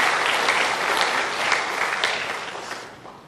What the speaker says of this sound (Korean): 우리 양 교수님도 큰 박수로 환영을 해 주시길 바랍니다.